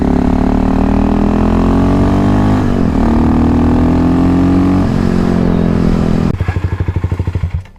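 A KTM 625 SMC supermoto revs hard through its first gears, loud and close, the engine note climbing steadily, dropping at a shift, climbing again, then chopping into a pulsing throttle-off burble at the end.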